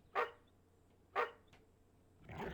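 A dog barks at strangers, two sharp close barks about a second apart followed by a softer yelp or growl, with no talk.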